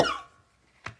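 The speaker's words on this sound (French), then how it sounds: "Je me mets à tousser." A single short cough from a person, fairly near and brief, following a fading tonal sound in an otherwise quiet indoor setting.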